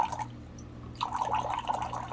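Water streaming from the spigot of a gravity-fed countertop filter system opened wide, a steady close trickle and splash into a container, briefly dipping before running fuller again.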